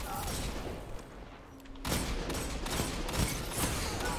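Gunfire during a Destiny Crucible Zone Control video game match, with a rapid stream of sharp shots and impacts over a busy, noisy game mix at moderate loudness.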